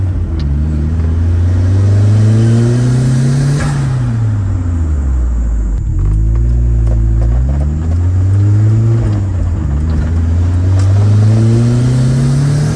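Turbocharged Mazda MX5 with a Garrett 2860R turbo revs repeatedly, its engine note rising and falling in loud, close sweeps; no distinct blow-off valve release stands out between the pulls.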